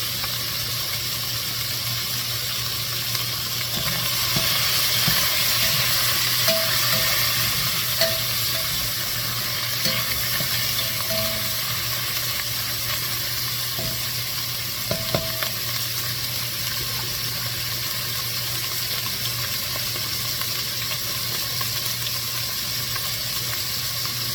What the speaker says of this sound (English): when I put my onion, celery, mushroom, and garlic in them, let those saute about at least 5 to 7 minutes